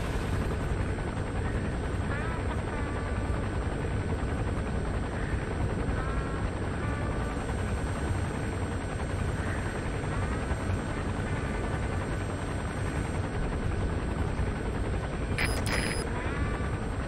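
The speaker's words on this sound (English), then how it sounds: "There's a chopper landing." A helicopter comes in to land in Metal Gear Solid V, its steady rotor drone and engine rumble filling the scene continuously at a moderate level, with a short sharper burst near the end.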